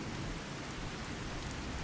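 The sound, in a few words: rainstorm in the video game Fallout 4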